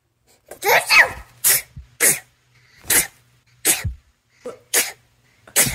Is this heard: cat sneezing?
yes